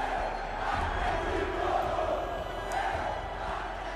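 A big football stadium crowd roaring and shouting together, a broad continuous wash of voices at steady loudness, heard from within the mass of supporters.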